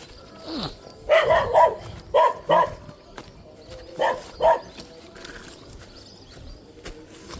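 A dog barks in short clustered bursts, fairly close and loud, with pauses between volleys, outdoors at a spot where people are fishing for native snakehead.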